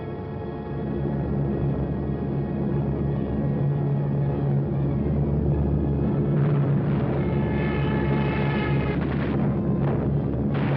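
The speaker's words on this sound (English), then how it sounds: "So the Germans brought up their bombers." German bomber aircraft droning overhead in a 1943 wartime film soundtrack, a continuous loud engine roar with muffled, band-limited quality and no talk.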